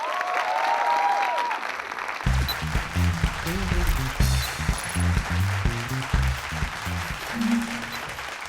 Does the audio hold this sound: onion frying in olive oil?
no